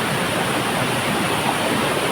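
Heavy rain runoff water flowing in a crab-catching spot, a loud, steady rushing roar like a waterfall or torrent, unbroken and close.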